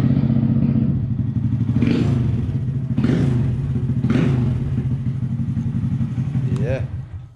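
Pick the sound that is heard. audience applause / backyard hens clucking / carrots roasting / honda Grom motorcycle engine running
honda Grom motorcycle engine running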